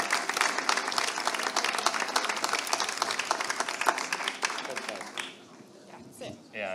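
An audience at a festival closing and awards ceremony breaks into dense, sustained applause for about five seconds before it fades out, followed by a brief voice.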